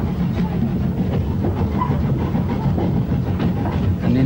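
A steam train working hard on the climb toward the line's summit in South Wales, near the reservoir at Cray, gives a steady, dense rumble with rhythmic chuffing and rail clatter close by throughout.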